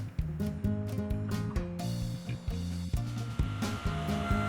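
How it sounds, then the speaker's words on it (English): Wood pieces fed one after another through a table saw set to cut shallow grooves, the blade's whine dipping and recovering with each pass in a repeating, close, loud pattern. "Then I ran all the pieces through the table saw."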